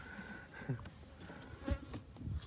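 Bees buzzing around a beehive, a faint close hum with a few louder passes as individual insects fly near, no voices.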